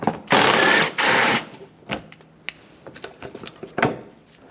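A ratchet backs out an 8mm-headed bolt from the front brake dust shield of a 2000-2005 Ford Excursion: two loud, sustained bursts of rapid clicking up close, followed by lighter scattered clicks and taps.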